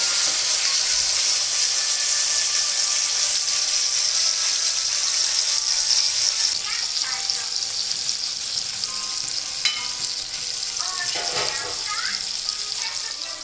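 Nutter fish (pomfret) sizzles in hot oil in a frying pan, a steady close hiss and crackle with scattered pops throughout.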